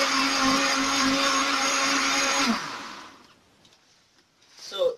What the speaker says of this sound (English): I'm blending my butter beans so that it will be easy for me to stir it